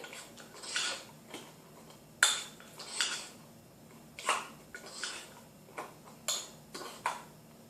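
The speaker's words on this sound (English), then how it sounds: "You stir those in." A spoon stirring raisins into cinnamon bread batter in a mug, giving soft scrapes and light clinks against the sides in irregular strokes, close and quiet with no voices.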